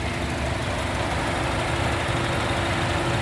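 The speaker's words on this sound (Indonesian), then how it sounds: "Mesinnya juga halus, 2400 cc iVTEC. Ini mesinnya nyala ya ini ya." A 2008 Honda Odyssey RB1 with a 2400 cc i-VTEC engine idling, a smooth steady low hum heard up close without a break.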